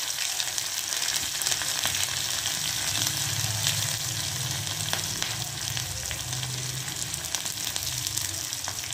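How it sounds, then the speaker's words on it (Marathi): Mustard seeds, cumin and green chili sizzle steadily in hot oil, a continuous close frying hiss with faint crackles throughout and no talk. "आता आपलं तेल गरम झालेलं आहे, त्यात आपण टाकूया थोडीशी मोहरी, थोडीशी जिरे आणि हिरवी मिरची।"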